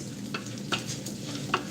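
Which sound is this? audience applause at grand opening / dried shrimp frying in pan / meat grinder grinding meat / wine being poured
dried shrimp frying in pan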